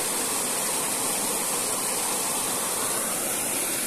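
Rushing floodwater after heavy rains in Bahia, Brazil: a steady, loud, roaring wash of torrent noise that continues unbroken without pause, with no voices over it.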